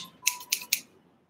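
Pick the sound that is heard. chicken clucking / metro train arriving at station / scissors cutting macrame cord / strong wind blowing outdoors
scissors cutting macrame cord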